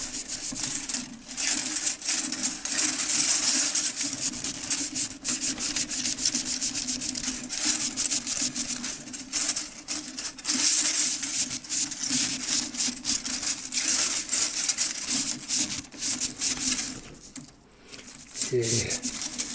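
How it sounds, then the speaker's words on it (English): Scouring pad scrubbing the steel case of a vintage Ansonia kitchen clock, a steady close abrasive rubbing that continues almost without pause, with a brief break near the end. "I'll start at the top this time and work my way down with the scouring pad."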